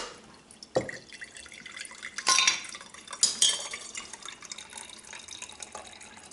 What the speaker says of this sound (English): fill up my lemon juice jar